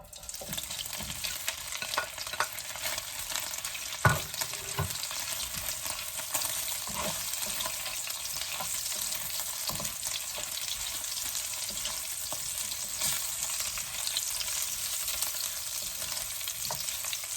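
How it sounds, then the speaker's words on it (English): Beef pieces for dendeng fry in hot oil, a loud, steady, bright sizzle that holds throughout, close up, with a few light knocks and stirs, no talking. "So once the oil is hot, I'm going to put the meat in."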